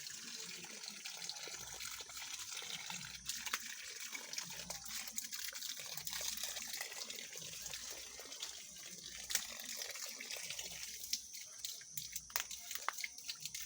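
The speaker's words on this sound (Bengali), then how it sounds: "আমাদের বড়জে পানি দেওয়ার কাজ শুরু করে দিয়েছে" Water pouring from a hose or pipe onto a betel vine garden, a soft continuous trickling splash at low level with scattered drips and faint background noise.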